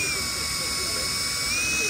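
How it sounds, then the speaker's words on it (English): A power drill bores a small pilot hole into the metal body of a VW T4 camper van, giving a short, continuous high whine up close with a steady hiss. "I'm just going to drill a little pilot hole straight in line with this"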